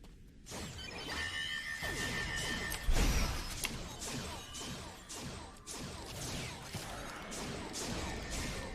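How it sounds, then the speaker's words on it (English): A grenade goes off in Star Trek Online as a sudden dull thump partway through, set among busy, crackling combat effects and whooshes at a moderate level. "Grenade."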